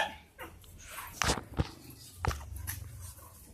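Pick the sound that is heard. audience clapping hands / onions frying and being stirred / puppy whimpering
puppy whimpering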